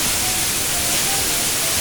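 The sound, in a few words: waterfall, Cascade du Déroc on the Aubrac plateau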